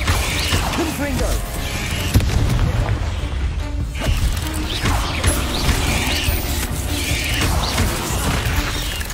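Confringo fire spell blasts in Hogwarts Legacy, a run of booming, crashing impacts over dense, rumbling game noise, loud and continuous with short louder bursts, and a voice speaks now and then.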